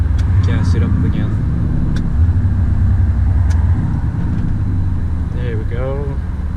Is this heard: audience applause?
no